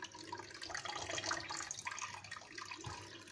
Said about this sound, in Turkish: Bu şekilde süzeceğim